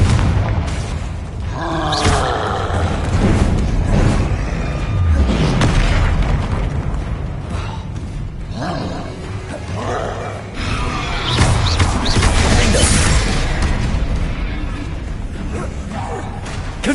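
Repeated Confringo blasting-spell explosions in the Hogwarts Legacy video game, loud booming bursts and whooshes recurring across a dense, continuous battle soundscape, with voices shouting over the blasts.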